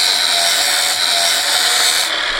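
Angle grinder cutting a metal cycloid drive plate outdoors, a loud continuous high whine and grinding hiss held steady, then cutting off abruptly near the end.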